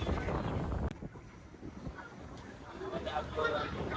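Passenger launch travelling on a river from Dhaka toward Chandpur near a bridge, with a low steady engine rumble beneath gusting wind buffeting the microphone and a voice talking over it.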